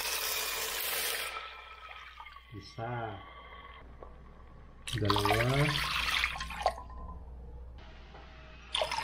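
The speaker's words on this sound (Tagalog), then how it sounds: "So, lagyan natin na tubig." Water is poured a cupful at a time into a cooking pot for Filipino molo soup, with short splashing pours separated by pauses while a person counts aloud in Tagalog.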